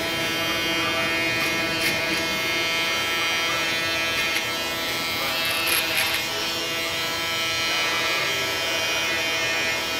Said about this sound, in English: I'm gonna add a little bit of the shaver under the bottom line to make sure it's thoroughly out there.